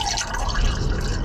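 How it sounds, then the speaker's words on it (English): Still water pours into a glass in a short, close, continuous splashing trickle lasting about a second. "We always start with still a sparkling water, Paul."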